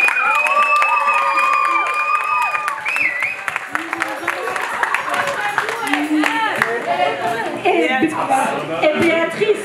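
Audience applause at a charity gospel concert, dense steady clapping mixed with cheers and voices filling the room, loud and sustained throughout.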